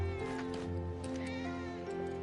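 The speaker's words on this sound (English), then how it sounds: "Look at all these cats." Cats meowing in the video game Final Fantasy VII Rebirth, several overlapping mews over a steady music bed, moderately faint, with no talking.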